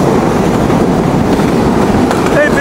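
The Kapotaksha Express intercity broad-gauge train runs through Bejerdanga station without stopping, a loud, dense, continuous roar of wheels and carriages passing close by, with a brief squeal near the end.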